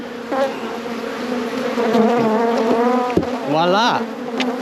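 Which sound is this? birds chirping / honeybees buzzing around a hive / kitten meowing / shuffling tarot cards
honeybees buzzing around a hive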